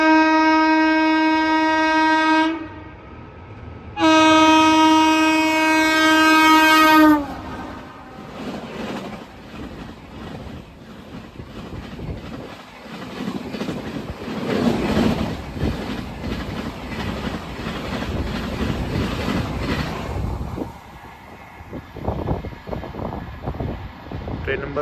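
The New Delhi Kanpur Shatabdi Express passes with two long horn blasts followed by a steady rumble and clatter of carriages rolling by, wind noise hitting the microphone.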